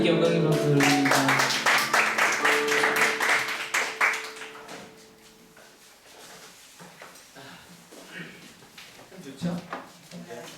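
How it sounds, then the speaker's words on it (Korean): Congregation applause in a church during a late-night prayer meeting: dense, loud clapping fills the first few seconds over lingering organ or keyboard tones, then fades into scattered claps and quieter room sound. "우리 하나님께 영광의 박수 드립니다."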